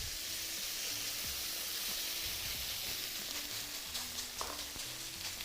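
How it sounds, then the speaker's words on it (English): Steady, loud sizzling of chicken searing in a smoking-hot oiled wok for a stir fry, a continuous crackling hiss with faint clinks of utensils underneath. "You want to hear that sizzling sound, especially when you're searing meat."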